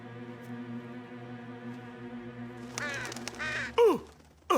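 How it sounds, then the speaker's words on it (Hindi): A cartoon crow caws a few times over a steady humming background drone, the harsh calls growing louder toward the end. "अच्छा, एक कौवा था।"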